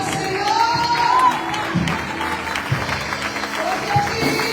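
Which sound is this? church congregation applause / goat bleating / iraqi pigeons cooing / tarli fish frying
church congregation applause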